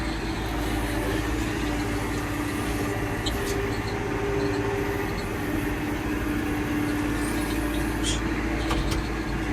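A tractor with a loaded front bucket reversing in four-wheel drive during dirt work, its engine giving a steady, loud, continuous rumble throughout.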